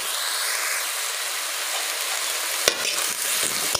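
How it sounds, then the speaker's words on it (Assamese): Leafy home-grown greens fried with a little salt and turmeric in a pan hiss steadily as a spoon stirs them, with a few louder scraping knocks near the end and no talking. "লৰাই দিছোঁ আৰু 2 মিনিটতে ভাজি ৰেডি"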